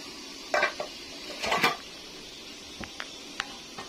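Pots and metal utensils clink and scrape while rice is cooked in a home kitchen, a few short clatters in two bursts followed by lighter isolated taps, close and otherwise quiet.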